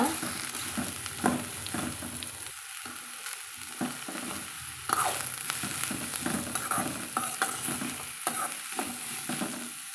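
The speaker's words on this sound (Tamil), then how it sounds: "இப்போ இது கூட நம்ம வெட்டி வச்சுக்கிற சுரக்காயும் சேர்த்துக்கலாங்க சேர்த்து வதக்கி விட்டுக்கலாங்க" Chopped bottle gourd being stir-fried in a pan, giving a close, busy sizzle broken by repeated scraping and clattering stirs that come in uneven bursts, with no voices.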